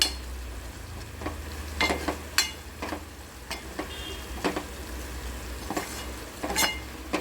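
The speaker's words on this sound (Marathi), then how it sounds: "आपला कांदा लसूण मसाला भाजून येतोय" Onion-garlic masala roasting in hot oil in a pan for moong dal amti, a constant soft sizzle broken by repeated metal scrapes and clinks of a stirring spoon, close and moderately loud.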